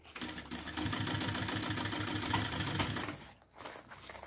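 A sewing machine runs in a steady, fast whirring stitch for about three seconds while sewing a travel-case style toiletry bag, then stops abruptly, followed by a brief handling rustle.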